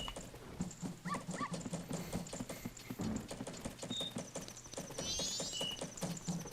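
A dog in The Legend of Zelda: Majora's Mask, with quick pattering footsteps and small game sound effects over a steady rhythmic background track.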